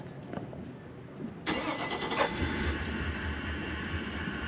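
A boat engine on a boat that is taking on water cranks and catches abruptly, then settles into a steady, rough-sounding idle close by, with no talking.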